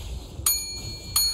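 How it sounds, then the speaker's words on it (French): A bright bell chime rings twice in a League of Legends esports broadcast, each strike clear and sustained over a low background hum. "Tiens, la sonnette."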